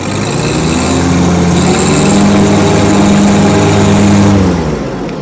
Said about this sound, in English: I'm going to go ahead and engage the deck.